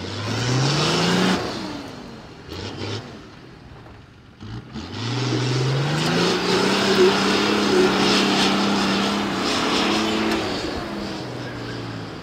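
A 4x4 off-road vehicle climbing in two-wheel drive at a mountain park, its engine revving and rising in pitch, then dropping away and surging again, loud and near.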